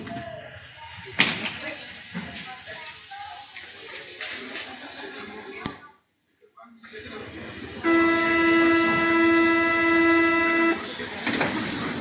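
A metro train in a Paris Metro station, heard close and loud with clanks and a slam, a brief silence, then a sustained tonal whine or chime as the train sits and moves off, with voices around.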